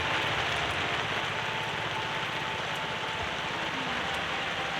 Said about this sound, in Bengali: জোরে তো বৃষ্টি নাইমে গেল